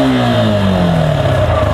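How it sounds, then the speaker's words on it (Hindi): A Suzuki Intruder 150 motorcycle idles loudly close by just after a self-start, its engine note sliding down as revs settle into a steady thrum. "एक सेल्फ में गाड़ी स्टार्ट होती है"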